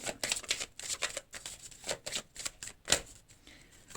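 Tarot cards being shuffled and drawn, a close run of quick papery riffles and flicks in uneven bursts, one sharper snap near the end, with no talk.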